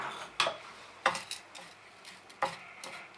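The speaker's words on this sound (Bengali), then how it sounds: "নুন, চিনি আর ঘিটা আমি ময়দার সঙ্গে প্রথমে ভালো করে মিশিয়ে নিচ্ছি।" A utensil scrapes and clicks in a bowl while flour is mixed with salt, sugar and ghee for Bengali golap pitha, a few sharp irregular knocks over quiet, soft mixing.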